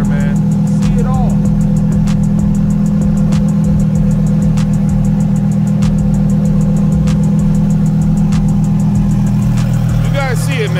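A loud, steady engine rumble from a 1700 hp Audi R8 sports car runs throughout, with a deep throaty drone and occasional higher whirs, close and continuous.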